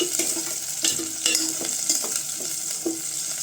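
Half-chopped raw onion frying in a pan for an eggplant gravy, with a steady bright sizzle and repeated stirring scrapes and clinks throughout, close and without talk.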